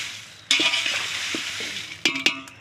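Chilies roast in oil on a stove, with a close, steady frying hiss broken by sharp metallic scrapes and clinks of a spatula against the pan.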